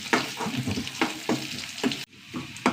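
Small onion rings fry in a pan with a close, steady sizzle broken by scraping stirs every half second or so, no voices present.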